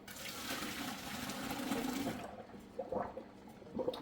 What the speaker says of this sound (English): Drain all that water.